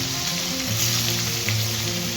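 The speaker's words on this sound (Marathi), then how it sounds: "जिरे मोहरी छान तडतडली की मग वांग टाकायचं आपल्याला" Eggplants sizzling as they drop into hot oil with a crackling mustard seed and cumin tempering, a loud, steady frying hiss close up, with no talk.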